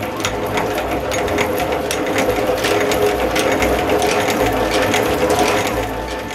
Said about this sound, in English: Put them back in so I can spin out the honey on the other side of the frames.